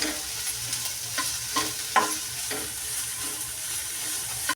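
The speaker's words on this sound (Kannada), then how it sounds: "ಎರಡೇ ಎರಡು ಹಸಿಮೆಣಸಿಕಾಯಿ ಸಣ್ಣಗೆ ಕಟ್ ಮಾಡಿ ಹಾಕಿದ್ದೀನಿ ಅದಕ್ಕೆ ಈ ಥರ ಸ್ವಲ್ಪ ಇದನ್ನ ಫ್ರೈ ಮಾಡ್ಕೋಬೇಕು" Finely chopped green chillies fry in oil in a pan, giving a steady bright sizzle with a few soft stirring clicks and scrapes near the mic and no voices.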